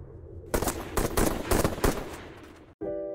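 Gunfire in an action film, a rapid burst of loud, closely spaced shots lasting over a second, followed by a short pause and a sustained ringing tone.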